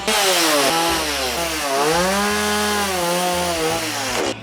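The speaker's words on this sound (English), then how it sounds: "go in with the saw on either side and just kind of taper it down" A chainsaw carving a wooden bear sculpture runs loud and close throughout, its engine revving up and down in pitch as it bites into and tapers the wood, with no talking.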